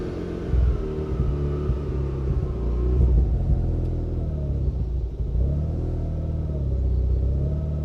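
A Mazda RX-8 rotary engine runs at idle with a Haltech R3 ECU fitted and an idle fault, giving a steady low rumble that dips and wavers slightly in pitch midway before settling, close and continuous with no talk.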